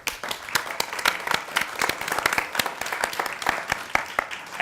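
Audience applause at a community news forum panel, a dense crowd of clapping hands with sharp individual claps, steady and fairly loud throughout.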